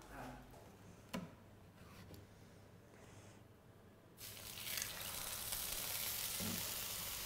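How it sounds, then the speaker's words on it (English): Salmon frying in avocado oil in a pan: a quiet start with a few clicks and taps, then a sudden steady hiss of sizzling that swells and holds to the end. "So a little bit of avocado oil going into the pan."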